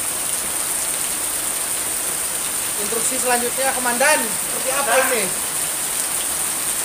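Steady rain hisses throughout in Pangandaran, Indonesia, during flooding, a constant broadband wash, while someone speaks briefly over it in the middle.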